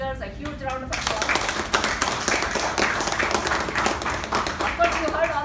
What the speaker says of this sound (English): Let's give all our speakers a huge round of applause.